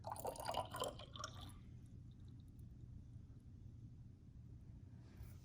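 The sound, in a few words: water poured into a graduated cylinder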